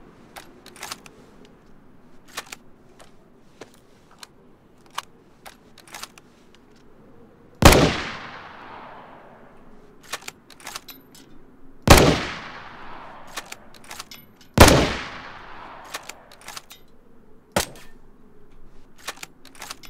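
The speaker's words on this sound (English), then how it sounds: "Here are the reload animations and the sounds of the Pioneer rifle." Pioneer bolt-action rifle in the video game DayZ: a run of metallic bolt and magazine reload clicks, broken by three loud close gunshots with long ringing decay, spaced several seconds apart.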